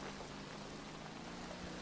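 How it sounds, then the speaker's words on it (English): Steady rain in the driving game Motor Town, a soft, even hiss of falling drops that holds faintly and unbroken throughout. "Also, it's now raining."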